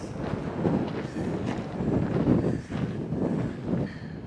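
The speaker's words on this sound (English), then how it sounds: "So it's really windy up here." Strong wind gusts buffet the microphone at the summit of a volcanic cinder cone, a loud continuous rumbling roar that swells and dips without a break.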